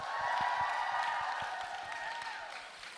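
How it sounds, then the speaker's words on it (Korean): Audience applause at a K-pop mini album showcase, a quiet, steady patter of clapping from a crowd, fairly distant and fading slightly toward the end. "여러분 박수 한번 보내주세요."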